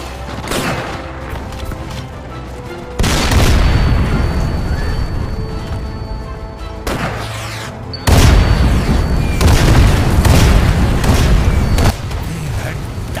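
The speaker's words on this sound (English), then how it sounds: "Captured artillery destroyed the tank and bought us another chance." A captured artillery gun fires and destroys a tank in the World War II shooter Sniper Elite VR, with several heavy booming blasts and rumbling aftermath, loud and close, over sustained battle din.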